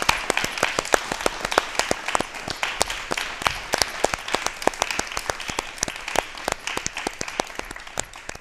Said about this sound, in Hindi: तो क्यों ना इस बात पर एक बार जरूर तालियां बजनी चाहिए और जोर से बजनी चाहिए।